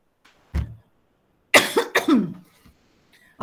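A short throat sound comes first, then two hard, close coughs in quick succession, with quiet tails trailing off in a still room during an Islamic education lesson.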